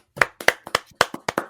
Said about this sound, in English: I'm going to give you a clap for that.